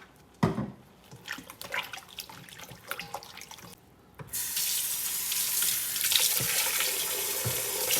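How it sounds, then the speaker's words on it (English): Tap water runs steadily into a sink as chicken thighs are rinsed, preceded by a few seconds of quieter handling clatter and splashes before the stream opens up full. "I rinse the chicken off"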